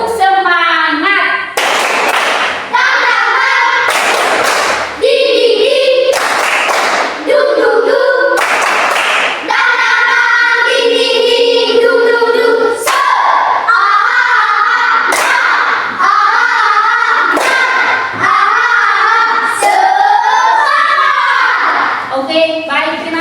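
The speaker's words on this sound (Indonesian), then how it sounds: "tepuk semangat" A school class performs a rhythmic group clapping routine as an icebreaker, sharp loud claps in a patterned beat mixed with children chanting and shouting along throughout.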